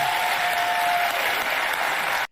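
A crowd at a political event bursts into steady applause, a dense uniform roar of clapping that holds for about two seconds and then cuts off abruptly.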